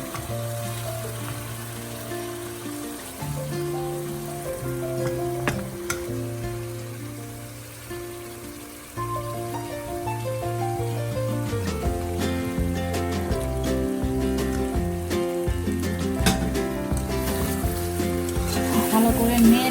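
Chicken pieces with a few green chilies sizzle steadily in a pan while being stirred, a continuous frying hiss under tuneful background music throughout.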